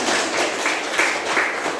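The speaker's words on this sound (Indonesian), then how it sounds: "Tepuk tangan untuk kita semua." A group of people claps together in a room, a brief, dense burst of hand clapping that stays even and fairly loud for under two seconds.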